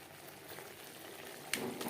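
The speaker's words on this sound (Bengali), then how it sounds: "তিন চার মিনিট মশলা কষিয়ে দেবো" Spice paste for a vegetarian potato and pointed gourd curry frying in oil, a steady soft sizzle with a few brief louder crackles near the end, close and without any voices.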